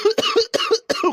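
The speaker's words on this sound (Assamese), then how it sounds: "কাহে ধৰি গৈছে তই" Three coughs in a row, close and fairly loud, each a short harsh burst with a brief gap between them, heard alone with no talk.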